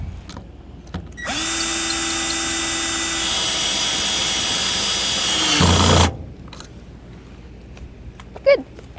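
Power drill fitted with a socket spins up and runs steadily for about five seconds, tightening a nut onto a CargoSmart D-ring tie-down anchor bolt, then stops abruptly; a brief squeak follows near the end.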